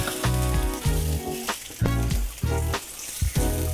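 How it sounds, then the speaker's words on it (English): Vegetables, eggplant and kale brushed with olive oil, hiss and sizzle loudly on a hot grill in repeated bursts, with short quieter gaps and clattering between them. "we'll start adding the rest of our vegetables to the grill"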